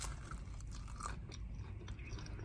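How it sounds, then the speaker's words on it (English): Someone bites into pizza with a quiet, close crunch, followed by soft chewing and scraping sounds, all faint and steady against a low background rumble. "Y'all hear a crunch?"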